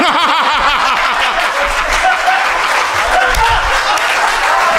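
Audience clapping and laughing at a Hindi poetry recital (kavi sammelan), a loud, steady wash of applause mixed with chuckles that holds for the whole stretch.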